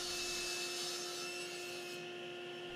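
A table saw cuts plywood sheets to size for a laundry room storage built-in, giving a steady, loud whine with a constant tone and broadband wood rasp, easing slightly near the end.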